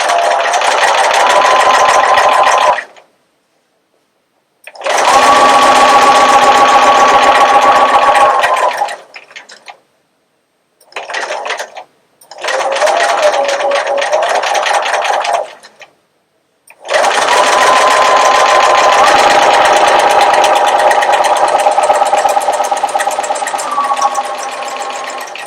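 A sewing machine runs the final seam of a quilted Y-seam piece in long steady bursts, loud and close, with brief pauses between runs of stitching.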